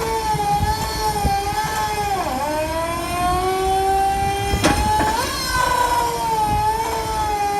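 Hydraulic-electric pumps rated at 200 horsepower on a giant walking mech at Maker Faire Bay Area power up with a steady, near whine whose pitch dips and rises, plus a sharp clank midway.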